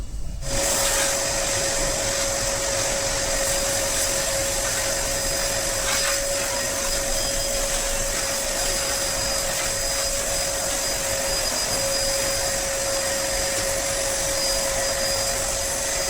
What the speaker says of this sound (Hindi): जब वैक्यूम क्लीनर है तो अच्छे से इनको साफ ही कर देते हैं।